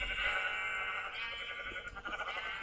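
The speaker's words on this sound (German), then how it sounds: "wieso ist denn hier ein Schaf draußen?" A sheep in the video game Minecraft bleats over a busy, noisy game soundscape, a few wavering bleats running through about three seconds, fairly loud, with no talk.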